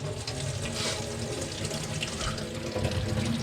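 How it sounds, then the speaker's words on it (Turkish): Cold tap water runs into a sink and splashes over a hot moka pot. The stream pours steadily and fairly loud, close by, for the whole stretch. "Şöyle biraz soğuk suya tutuyoruz. Şu altını açıyoruz. Lavaboda."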